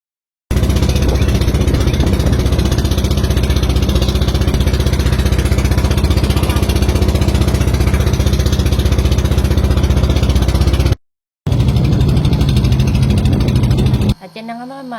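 A loud, steady motorboat engine on a small passenger boat drones continuously at close range, briefly cutting out before resuming, then fading into a quieter rumble.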